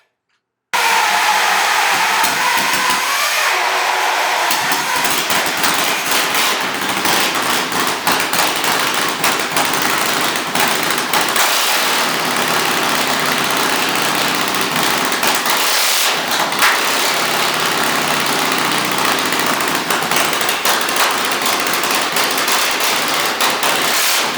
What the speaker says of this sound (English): I had a spare mag here, so I actually changed the mag out, retimed the bike, and here it fires right up